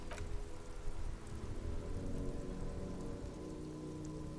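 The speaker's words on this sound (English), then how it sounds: "You wonder if it could rain so much that it drowns all of Martinez." Steady rain in the Disco Elysium video game, a constant dense patter without a break, heard alone.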